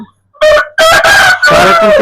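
Australorp rooster crowing close and loud, one long harmonic crow broken into three strong bursts with a short gap before the last, in a poultry yard of laying hens.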